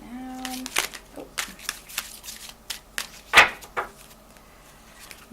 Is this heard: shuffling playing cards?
yes